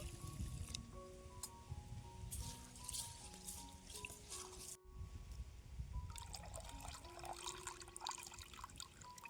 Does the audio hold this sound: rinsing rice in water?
yes